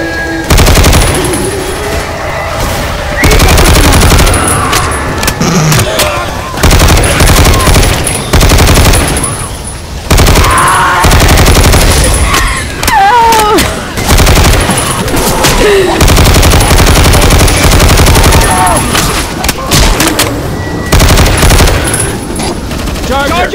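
Video-game gunfire from Left 4 Dead 2, with dense, loud automatic bursts and single shots rattling almost nonstop. Brief gaps break the firing, and players' voices come in and out under it.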